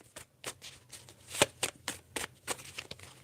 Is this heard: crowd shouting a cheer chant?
no